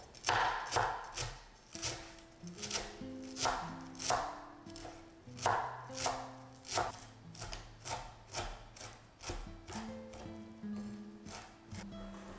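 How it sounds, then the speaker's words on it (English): Knife chopping cilantro on a board, a run of quick rhythmic thuds in short bursts with brief pauses between, heard close and clear with faint background music underneath. "here I'm just chopping up the cilantro for the quesadillas as well as the seekh kebab."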